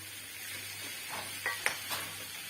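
A vegetable roll filling, seasoned with lemon juice and chaat masala, is mixed in a bowl, heard as quiet soft scraping with a few brief clinks of a utensil midway.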